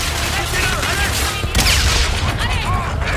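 Rapid bursts of video game gunfire crackle loudly and continuously, with a sharp louder shot midway and no voices.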